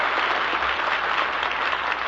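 A radio studio audience bursts into steady applause with a cheer, dense clapping at even loudness throughout, with no talking over it.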